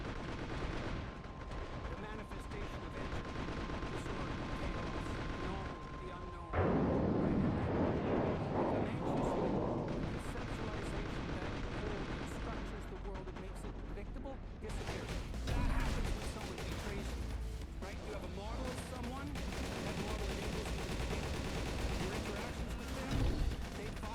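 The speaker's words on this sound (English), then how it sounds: "Evo neko baca bombe." Bombs thrown and detonating in the shooter game Darkest Days, a dense barrage of loud blasts and gunfire rumbling continuously with heavier bursts partway through and near the end.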